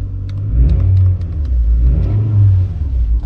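A Toyota Harrier SUV engine catches and revs in two strong, close bursts, a deep steady rumble swelling and easing between them.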